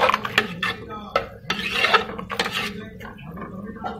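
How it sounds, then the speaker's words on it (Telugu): Boiled lentils stirred into a cabbage masala curry in a metal pan, a spoon scraping and clinking against the pan in uneven strokes, close and clear. "దీంట్లో వేసేసి బాగా ఇలా కలగించుకోవాలి."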